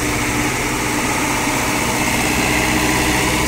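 A tractor engine runs steadily at a construction site for a new gurdwara, a loud continuous mechanical drone with constant vibration and no pauses or voices.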